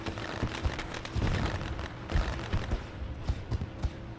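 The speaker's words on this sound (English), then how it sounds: "Alright, you guys can stop the fireworks now" Fireworks go off at a dirt racetrack during a UMP Modifieds event at Knoxville, with repeated loud pops and booms, some in quick clusters, over a constant rumbling background.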